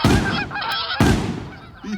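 Geese honk loudly and close in two quick bursts of overlapping calls, alone without talk.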